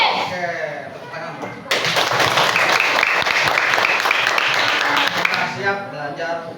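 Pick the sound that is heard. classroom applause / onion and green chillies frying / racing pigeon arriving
classroom applause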